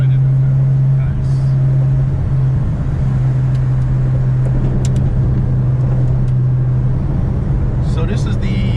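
A 1977 Porsche 911 RSR Tribute cruising on the road, heard from inside the cabin. A steady low engine drone and road rumble continue throughout, with people talking over it.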